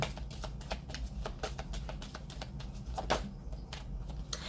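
Oracle cards being shuffled by hand, a rapid run of crisp flicking and riffling taps close to the microphone over a low steady background hum, with no talking.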